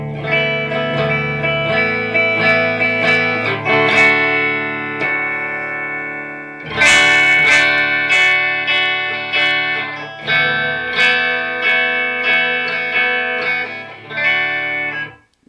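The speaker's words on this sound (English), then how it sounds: "this is the clean channel with just the Fender, and I'm going to add in the Marshall" A Fender and a Marshall guitar amp play together, one clean and one distorted, with chords struck and left ringing in an uneven rhythm, loud and close, with no voices.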